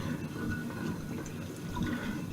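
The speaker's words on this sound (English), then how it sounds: "So I may as well just give this a quick rinse out." Running water rinsing out a cooking pan after making a ratatouille pasta bake, a steady close splashing wash without speech.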